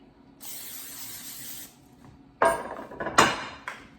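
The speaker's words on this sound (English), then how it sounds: "I have the butter flavoring, which I'm going to use to spray the pan down." A steady hiss of butter-flavored cooking spray for about a second, followed by a few clanks and knocks of a pan being handled.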